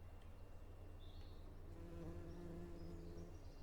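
Bees buzz steadily in the farming game Farming Simulator 25, a soft, continuous drone with slight wavering pitch and no talk over it.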